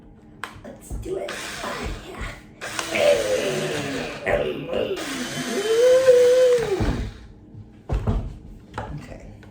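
An electric nail drill works on long acrylic toenails in short bursts of buzzing whine that rise and stop several times, with voices talking and reacting throughout.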